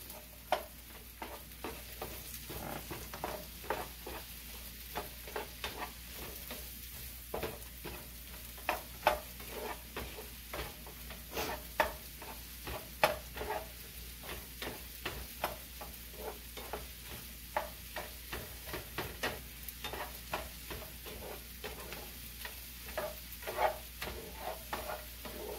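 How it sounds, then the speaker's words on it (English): Mushrooms and onions sautéing in a pan, giving a quiet, even sizzle with frequent small crackles and pops over a long stretch, with no voices. "All right, so I'm gonna add my mushrooms and my onions."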